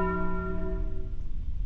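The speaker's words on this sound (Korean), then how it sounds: "밤늦게 어째서 종이 울리고 있지?" A single church bell stroke at night in a video game rings out and decays slowly, a clear, resonant tone fading over a second or two with no talk.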